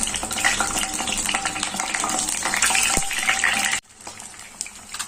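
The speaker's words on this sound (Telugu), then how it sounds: "ఎగ్స్ బాగా ఇలా డీప్ ఫ్రై చేసుకోవాలి." Five boiled eggs deep frying in hot oil for egg curry, a loud continuous close sizzle and bubbling with stirring, breaking off abruptly near the end into quieter, fainter frying sounds.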